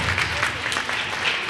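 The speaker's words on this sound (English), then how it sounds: "Let's give them another hand of applause." An audience claps at an event, a brief dense burst of steady applause heard close and loud with no pauses.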